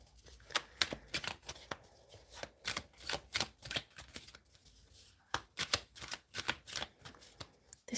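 A deck of tarot cards is shuffled in quick riffling bursts, a rhythmic series of crisp flutters and slaps close by, several rounds with short pauses between.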